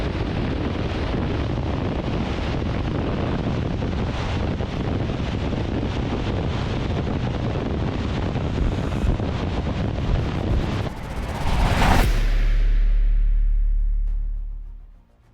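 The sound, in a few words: wind blowing against the microphone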